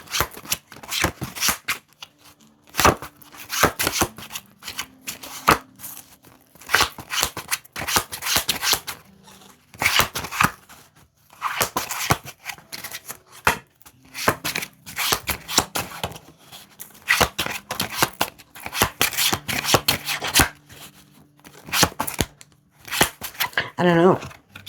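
Tarot cards are shuffled for a card reading in repeated bursts of riffling and flapping, near and fairly loud, pausing between rounds while a voice talks quietly in the gaps.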